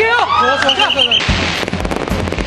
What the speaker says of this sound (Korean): 드디어 개막을 알리는 폭죽과 함께 레드카펫 행사가 시작되고